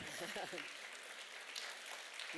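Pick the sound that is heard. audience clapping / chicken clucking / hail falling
audience clapping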